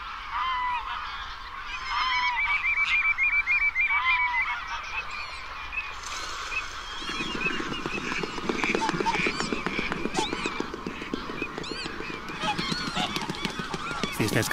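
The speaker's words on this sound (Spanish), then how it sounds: "Cisnes cantores, gansos silvestres, alguna ave fría y un trompeteo que no esperábamos volver a oír hasta el próximo otoño." Wild birdsong on a fine northern European morning: whooper swans and wild geese honking, with cranes trumpeting among them, a dense, steady chorus of overlapping calls that grows busier and louder partway through.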